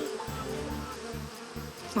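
Cartoon bees buzz in a steady, mid-pitched drone, with low pulsing beats marking a rhythmic pattern underneath. The buzzing stays fairly quiet and continuous for the whole two seconds.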